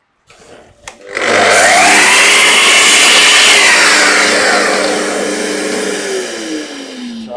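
A loud power tool whines steadily as it trims a wooden piece of a dovetailed secrets box, with a short tap before it starts and the motor pitch sagging slightly toward the end.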